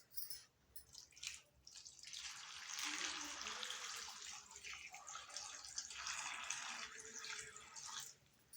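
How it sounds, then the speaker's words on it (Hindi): A jug of water poured into a pot of pumpkin for halwa, a soft, steady splashing stream lasting several seconds, quiet and close, with no talking. "अब हम इसमें पानी शामिल करेंगे, 1 जग पानी का"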